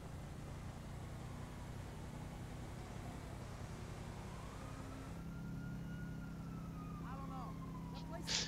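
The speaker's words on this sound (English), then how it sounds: "Someone's just left their siren on for the lulls, haven't they?" A police siren wails in the distance in the game GTA V, a faint rising and falling tone held steadily over a low rumbling game ambience.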